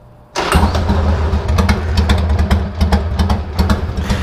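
A motorcycle engine cranks and fires up after a brief quiet moment, then keeps running with a loud, steady rumble and slight throttle pulses.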